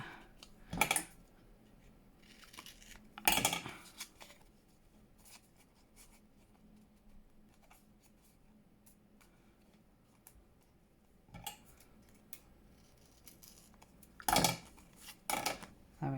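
Scissors snip paper for a junk journal in a few sharp, isolated cuts spread across a quiet crafting table, with faint handling noises between them.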